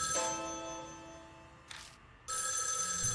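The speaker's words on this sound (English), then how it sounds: "Suddenly the phone from the next room rings." A telephone rings in the next room in the horror game Spirit Hunter NG: a soft, faint electronic ring that fades, breaks off briefly, then starts again, with no talk.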